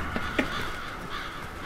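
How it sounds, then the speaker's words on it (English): Crows caw in the video game Billy Hatcher, a couple of harsh, raspy calls over a steady ambient game backdrop, brief and moderately loud. "Black crows. Always signals a bad thing."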